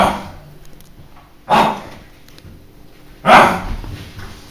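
A dog barks indoors in two loud, separate single barks about two seconds apart, with quieter background room sound between them.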